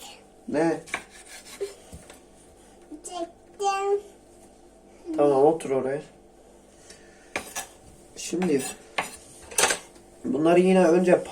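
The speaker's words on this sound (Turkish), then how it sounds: "Şimdi aynı şekilde diğer yarım domatesi de doğrayacağız." A knife cuts half a tomato on a cutting board for Turkish menemen, with scattered short knocks and scrapes between stretches of talking close by.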